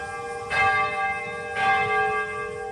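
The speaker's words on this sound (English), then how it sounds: "people come from around the world to hear the St. Kateri Bell of Peace ring across Nagasaki" The St. Kateri Bell of Peace, a church bell in Nagasaki, rings out in two clear strikes about a second apart, each swelling briefly before a long, sustained humming resonance carries on underneath.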